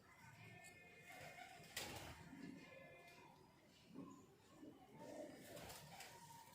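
Ratta Cheena pigeons cooing in a loft, soft low repeated coos with scattered bird calls and handling noises over a steady background hum.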